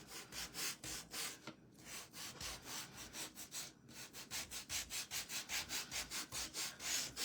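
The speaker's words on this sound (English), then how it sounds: "So now I'm just going to sand this." Hand sanding of a black-painted wooden birdhouse, heard as rhythmic back-and-forth rasping strokes, close and fairly quiet, with a couple of brief pauses before the strokes speed up.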